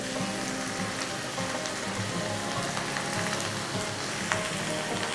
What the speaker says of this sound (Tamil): இந்த மசாலா சேர்த்து நல்லா நம்ம வதக்கிக்கலாம்